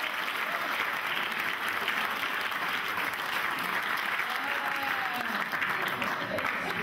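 A studio audience at a French comedy show applauds the host, a steady, even clapping that fills the room for the whole stretch, moderately loud, with no voices over it.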